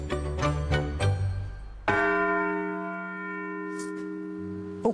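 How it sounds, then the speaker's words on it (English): Large bells in a Glasgow setting ring close by, several quick struck clangs followed by one strong strike whose rich tone rings on and slowly fades, with no voices. "Apart from the bells behind me and I want to clonk it."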